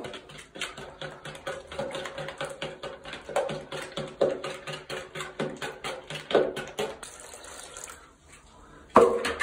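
Water is poured and splashed into a thick microcement mix for a bathroom finish, with irregular tapping and sloshing bursts throughout and a sharper clatter near the end.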